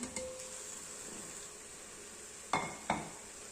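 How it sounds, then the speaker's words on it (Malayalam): Onions with black pepper sauté in a pan with a faint, steady sizzle. Two sharp utensil clinks against the pan sound near the end. "അതിനുശേഷം നന്നായി വഴറ്റിക്കൊടുക്കുക."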